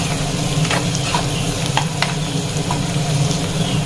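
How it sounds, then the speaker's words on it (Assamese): Small fish with cumin powder fry in a pan, giving a loud, continuous sizzle with occasional scraping stirs, close and steady throughout. "এতিয়া গোটেইখিনি অকণমান সময় ভাজি লম।"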